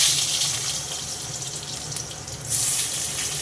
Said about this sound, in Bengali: তেলে আলুতে মনে হয় একটু জল ছিল। আলুটা ভালো করে ভাজা হচ্ছে।